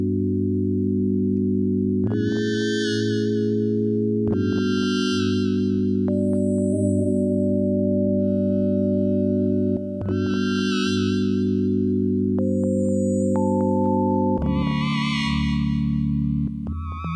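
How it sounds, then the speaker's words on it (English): Slow, sustained Nord Lead 2 synthesizer chords change every couple of seconds, with echoing delay and a wash of reverb trailing each note. "Let's make it really slow, put my delay and reverb back in."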